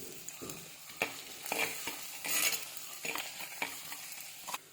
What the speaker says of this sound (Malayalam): വെളിച്ചെണ്ണ നന്നായി ചൂടായിട്ടുണ്ട്. അപ്പോൾ അതിലേക്ക് കുറച്ച് കടുകും കുറച്ച് ഉലുവായി, വെളുത്തുള്ളി, ഇഞ്ചി,